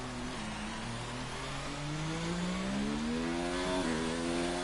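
A Formula One race car from F1 2019 in Montreal, as heard in a video game, holds a steady engine drone whose pitch climbs gradually as it accelerates, then dips briefly with a gear change; loud, close and continuous, with no talking.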